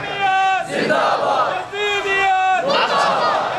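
Loud crowd chanting religious slogans in unison at a Muharram majlis, voices rising in two or three long shouted waves with brief dips between them, filling the hall.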